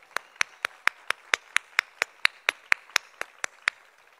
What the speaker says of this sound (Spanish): de hoy es obra de nuestro Señor Jesucristo, para quien pido un fuerte, pero muy fuerte aplauso.